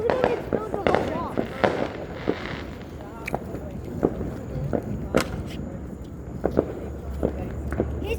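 Fireworks going off outdoors in a string of sharp bangs and crackles, some near and loud, with excited voices talking and shouting between the blasts.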